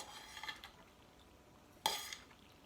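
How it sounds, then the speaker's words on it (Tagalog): Macaroni salad with shrimp stirred in a bowl, giving a few faint, sparse clinks and scrapes of a utensil against the dish in a quiet room. "I-mix lang po natin."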